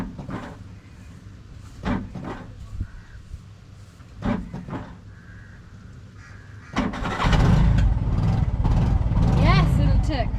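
A tuk-tuk engine in Sri Lanka cranks and catches, then settles into a loud, close, steady drone as it pulls away, with people talking over the earlier quieter part.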